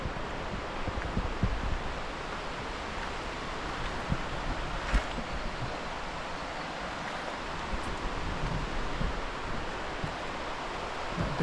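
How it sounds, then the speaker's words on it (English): Steady broadband rush of the River Usk flowing in the distance beside the Monmouthshire and Brecon Canal towpath, a constant wash with faint rustling and occasional small knocks, no voices. "I can hear the sound of running water in the distance"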